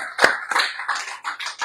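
Several sharp hand claps from a church congregation at a Casa de Oración Cuernavaca evening service, sounding as a loose, uneven handful of separate bursts rather than a full sustained ovation.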